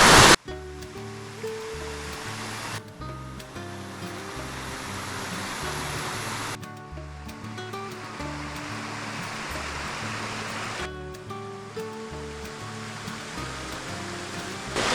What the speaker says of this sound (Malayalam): നല്ല വെള്ളത്തിന് സൗണ്ടൊക്കെ ഉണ്ട്